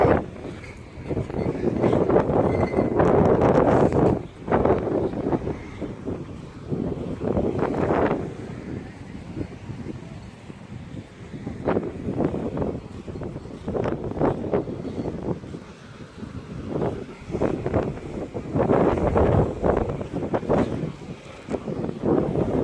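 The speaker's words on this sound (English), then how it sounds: "It's a bit windy out." Strong wind buffets the microphone in loud, rumbling gusts that rise and fall at Hua Hin, Thailand, with faint water sounds beneath and no talking.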